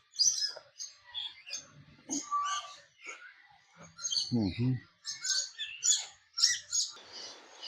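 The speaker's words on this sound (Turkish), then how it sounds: "Yine burada kuşlarla ilgili farklı bir kuş çeşidi. Yine bu da tropikal kuşlardan." Small tropical birds chirp and tweet in short, scattered calls, close by, at a safari park zoo in Minburi, Thailand, with soft murmuring voices in the background.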